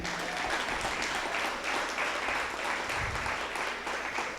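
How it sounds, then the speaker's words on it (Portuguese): A church congregation stands and applauds in praise, a dense, sustained wash of many clapping hands filling the hall evenly for several seconds. "Pode aplaudir o Senhor"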